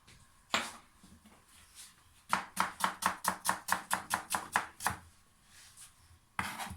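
A knife chops quickly on a cutting board, a single chop followed by a fast, even run of about fifteen crisp strokes, then a pause and another cut, close and clear.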